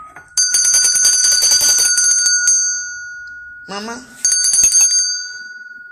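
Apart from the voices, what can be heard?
bell ringing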